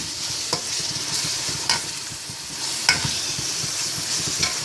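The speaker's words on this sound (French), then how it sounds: "Puis là, on va faire frire, on va remuer." Rice ingredients frying in oil and butter in a pot with crushed parsley, garlic and green onion, a steady sizzle broken by periodic scraping strokes of stirring, close and continuous.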